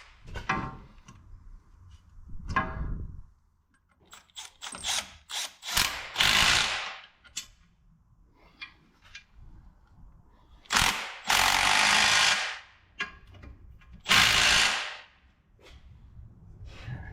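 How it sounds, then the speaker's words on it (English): A jack raising the cross member of a 1959 Chevrolet Apache truck into place, with repeated ratcheting and metallic clanks in irregular loud bursts between quieter handling noises, close by. "And then we'll jack it up into place."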